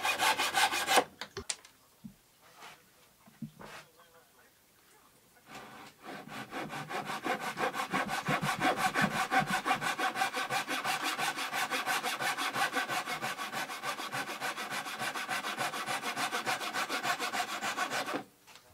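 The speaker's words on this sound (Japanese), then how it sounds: "ノコギリを使って大まかに切り落とします。" A hand saw rasps steadily through a wooden desk board in long, continuous back-and-forth strokes, roughly cutting off excess, close and loud, after a few brief knocks and scrapes at the start.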